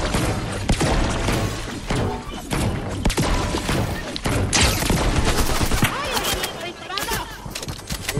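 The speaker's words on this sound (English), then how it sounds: "There's people shooting" Dense gunfire from the video game Fortnite crackles loudly and continuously, with overlapping shots and bursts packed close together, while voices talk over the barrage.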